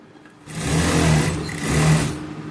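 A sewing machine runs an edge seam on a blouse, a steady motorized whirr that swells and eases in two sustained bursts, close and without voices.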